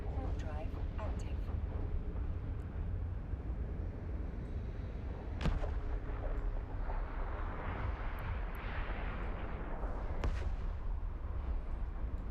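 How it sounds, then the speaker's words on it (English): Explosion in the space game Eve Online, a loud broadband boom amid a dense game soundscape, with sharp blasts near the middle and end, heard under talk and a synthetic voice. "Cool explosion."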